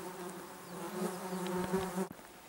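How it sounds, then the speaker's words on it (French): Flies buzz steadily around the camera outdoors, a continuous droning hum that rises and wavers as they pass close, fairly faint, cut off abruptly near the end. "Il y a des mouches."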